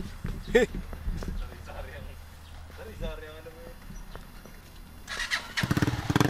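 A motorcycle engine revs up loudly in a burst of rapid throbbing near the end, after a stretch of quieter idling with people talking nearby.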